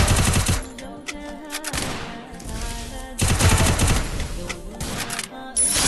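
Rapid gunfire in an online shooter match, several loud bursts of shots separated by short pauses, with game sounds in between.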